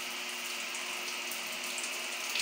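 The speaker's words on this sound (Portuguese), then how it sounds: "Água quentinha, ó." Hot water runs steadily from a freshly wired electric water heater, a continuous bright hiss of flowing water with a faint hum beneath, unbroken and fairly close throughout.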